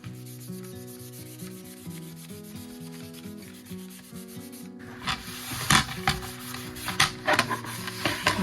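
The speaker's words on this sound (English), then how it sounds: "Going to do a quick scuff on the bamboo serving tray." Steady close rubbing of sandpaper scuffing a bamboo serving tray, growing into a busier rhythmic scratching in the second half, with no one talking.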